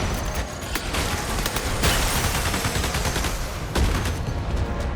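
Mounted gun hammering away at bugs in Starship Troopers: Ultimate Bug War, rapid loud bursts of automatic fire with heavier booming shots cutting through, close and sustained, no talk.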